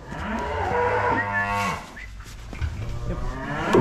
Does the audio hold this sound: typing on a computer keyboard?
no